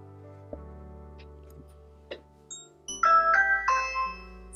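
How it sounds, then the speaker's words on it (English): A soft electronic Ring doorbell chime plays a short melodic tone sequence through an Echo Show 8, ringing brightly over a quiet hum, faint and close. "You can also choose your doorbell sound."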